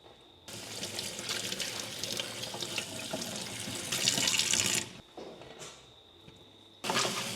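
A running kitchen tap splashes water over oily sun-dried tomatoes in a sink, a close continuous gush that swells and stops briefly twice before restarting, with no talking.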